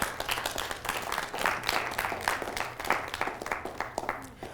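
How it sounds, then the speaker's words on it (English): An audience at a keynote event clapping its hands in steady, fairly even applause, moderately distant and sustained throughout with no speech over it. "Can you just clap your hands for them, please?"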